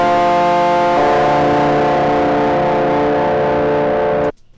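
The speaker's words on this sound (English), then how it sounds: "Here's that same audio with the distortion effect added to it." An electric guitar with a heavy digital distortion effect plays alone, thick and buzzy, sustaining for several seconds before stopping suddenly.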